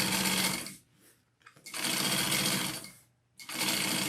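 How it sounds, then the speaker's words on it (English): A sewing machine runs long basting stitches around a fabric sling pack in three loud, steady bursts, with short pauses where it stops between runs. "So I'm just basting. I'm gonna make my stitch length a little bit bigger and we're gonna go all the way around."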